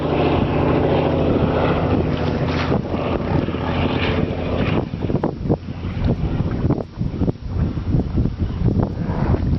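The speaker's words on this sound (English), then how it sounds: "That exhaust rumbled right through." Engine exhaust rumble at Moraine Creek, Alaska comes as a loud, continuous low roar with wind buffeting, swelling and fluctuating over several seconds, no speech.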